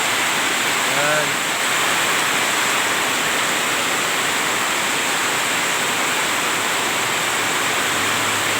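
Steady broadband rush of floodwater flowing past, loud and continuous throughout, with faint voices briefly audible near the start.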